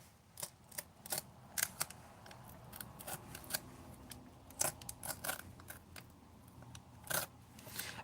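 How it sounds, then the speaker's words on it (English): Sticker paper torn by hand along a ruler edge in a controlled, semi-straight rip, giving a series of short, crisp tearing and rasping bursts at close range, irregularly spaced, with no talking. "It's a controlled, it's a controlled tear is kind of how I think of it."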